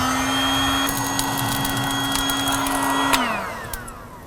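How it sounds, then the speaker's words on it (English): A Joe Blow electric blower hums steadily into the charcoal of a Kamado Joe grill, a loud whine with a tonal drone that winds down near the end, with no voices. "I'm going to fire up the Joe Blow here and get our charcoal going."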